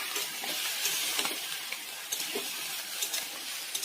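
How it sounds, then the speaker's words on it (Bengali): Vegetables fry in hot oil with panch phoron and green chilli in a kadai, giving a steady, close sizzle with scattered crackles and pops and no talk. "কড়াইয়ে তেল দিয়ে পাঁচফোড়ন কাঁচা লঙ্কা দিয়ে সবজিটা ঢেলে দিয়েছি।"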